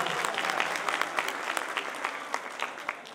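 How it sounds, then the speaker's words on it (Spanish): Crowd applause at the opening of the third International Dance Festival in Samacá, a sustained patter of many clapping hands with sharper individual claps standing out, fairly close and loud. "Un aplauso, por favor, para todos ellos."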